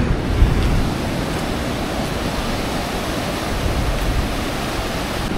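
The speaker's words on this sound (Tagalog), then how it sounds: "Ayun oh, ganda na dagat oh." Sea waves break and wash on the beach at Baler, Aurora, a steady loud roar of surf close by with gusty wind noise and no speech.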